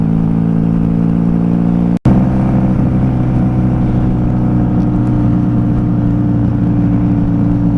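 A 1994 Honda Magna VF750C motorcycle riding past an auto auction, its engine a loud, steady droning hum with a brief cut-out, then continuing at constant speed alongside wind rush.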